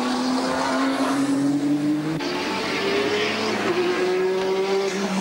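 Race car passing at the 1992 Bathurst 1000, a loud, rising engine whine sweeping by nearby, with other cars droning behind it and no talking.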